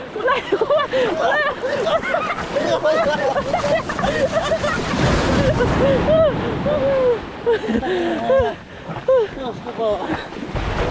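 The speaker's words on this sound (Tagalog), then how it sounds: "Ah, alon yan, malaki" Large flood waves rushing through a flooded coastal area in Bucana after heavy rain, a churning wash of water and wind noise under people talking and shouting throughout.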